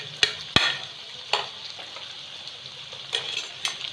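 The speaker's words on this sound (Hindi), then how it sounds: "अब हम अच्छे से इसको मिक्स करेंगे" Green chilies being stirred into chicken chowmein in a pan, a soft frying hiss broken by several sharp scrapes and clacks of the utensil at irregular intervals, close by.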